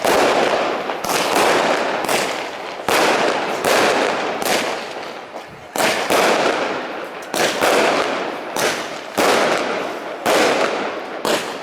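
Fireworks bursting at a birthday celebration: a loud, rapid series of crackling explosions in roughly regular salvos with brief gaps between volleys, close by and dominating the scene.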